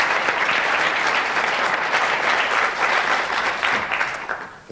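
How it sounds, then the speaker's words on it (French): Studio audience on a 1995 French game show applauds, a loud sustained wall of clapping that holds steady and tapers slightly at the end. "Et on les applaudit."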